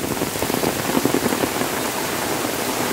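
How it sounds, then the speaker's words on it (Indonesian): Heavy rain pours steadily around a house, a dense, even hiss of drops close by with no voices, continuous for the whole stretch. "pas posisi hujan deras seperti ini"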